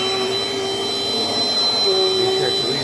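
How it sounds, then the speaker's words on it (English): A Dirt Devil Dynamite Plus vacuum cleaner runs steadily while cleaning a floor, giving a continuous whine with a high tone, loud and close throughout. "I sort of vacuum off the floor so it's got a clean workspace"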